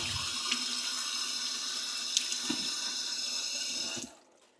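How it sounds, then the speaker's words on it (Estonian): A kitchen faucet runs steadily as hands are rinsed beneath it, a close, continuous splashing hiss with a couple of small knocks, then the tap shuts off abruptly near the end. "Oota, loputan käed korraks ära."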